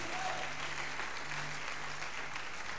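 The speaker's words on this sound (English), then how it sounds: "Clap for Jesus." Congregation clapping at a revival tent meeting, a sustained even wash of applause heard from within the crowd, moderately loud throughout with no one speaking.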